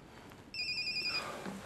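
An office telephone rings once with a short electronic trill, clear and close in an otherwise quiet room.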